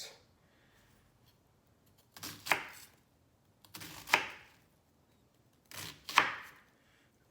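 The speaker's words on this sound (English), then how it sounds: "just cut the onion into some nice" A knife cuts an onion into chunks on a board: three separate crisp chopping strokes spaced about two seconds apart, each with a short crunchy slice before the thud, close up and quiet between strokes.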